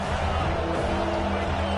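Stadium crowd noise from a college football video game, a steady, dense roar of many voices with faint cheering that holds evenly throughout with no distinct peaks.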